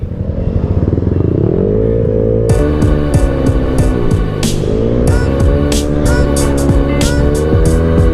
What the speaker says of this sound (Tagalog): Medyo traffic na dito mga tol, rush hour na, alas 5 na.